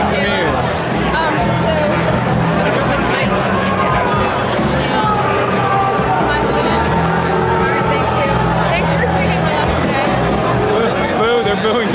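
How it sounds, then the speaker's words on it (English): A large crowd's dense, continuous noise at a rally booing Donald Trump, loud and sustained throughout with overlapping voices and babble, no pauses. "Boo, they're booing Donald Trump."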